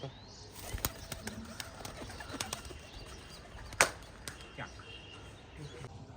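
Domestic pigeons being released one after another, wings flapping in scattered bursts with one sharper clap near the middle, over steady outdoor background noise while someone talks.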